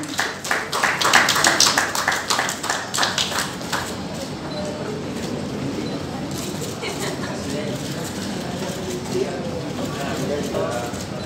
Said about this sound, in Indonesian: Aplaus semuanya.